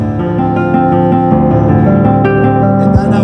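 Roland Jupiter 80 synthesizer plays a nylon-string guitar sample in polyphonic mode, with loud, dense overlapping plucked chords and arpeggiated notes ringing together continuously.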